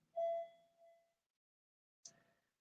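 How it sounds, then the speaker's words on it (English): A doorbell rings indoors: a clear tonal ding that rings out and fades, then a second shorter chime about two seconds later, both fairly close with silence between. "What a time for the doorbell to ring."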